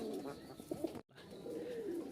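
Giribaj high-flying pigeons from Rajshahi give soft, low coos close by, a few throaty calls that are quiet overall, broken by a brief silent gap midway.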